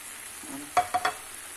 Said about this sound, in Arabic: دابا غادي نحرك كلشي العناصر الجميع